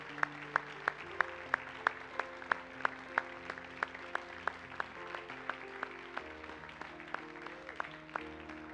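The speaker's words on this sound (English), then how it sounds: "Let's keep clapping." Steady rhythmic clapping in unison from a revival service congregation, evenly spaced sharp claps over sustained organ or keyboard chords, moderately distant and continuous throughout.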